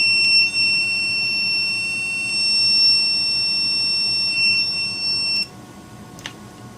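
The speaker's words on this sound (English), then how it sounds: "And now let's try the new super loud micro Lantian." A Lantian super loud micro buzzer sounds a steady, piercing high-pitched electronic tone for about five seconds, then cuts off abruptly, leaving a faint click and quiet background.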